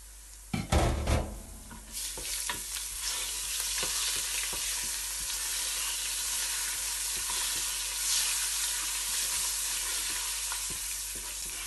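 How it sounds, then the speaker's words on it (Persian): Spices fry in about half a glass of oil in a pot for restaurant-style biryani, giving a steady close sizzle after a few clanks of a stirring spoon at the start. "اضافه کرده میمانیم که سرخ شده"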